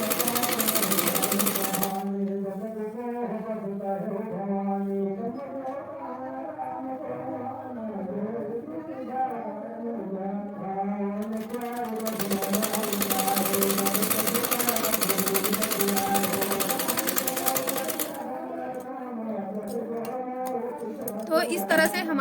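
Sewing machine stitching a plain blouse, attaching and fitting a sleeve on a slight slant, running steadily throughout under continuous close talk.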